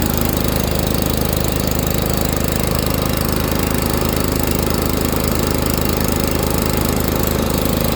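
A riding lawn mower engine runs steadily with its cutting deck engaged and spinning, a loud continuous drone close by that holds even throughout.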